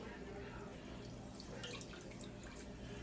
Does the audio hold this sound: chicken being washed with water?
yes